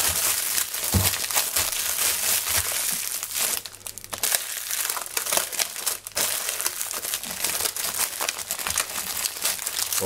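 A plastic bag holding salted trout wrapped in kitchen paper crinkles and crackles continuously as air is pressed out of it by hand, close and loud, with no talking.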